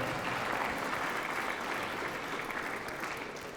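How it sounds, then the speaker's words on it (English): An audience at a live beef podcast event claps for a guest named Jenny, a steady, fairly quiet wash of applause that holds evenly for a few seconds and tapers slightly at the end. "Let's give Jenny a round of applause and her hair."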